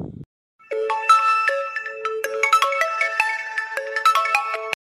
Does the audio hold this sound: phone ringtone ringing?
yes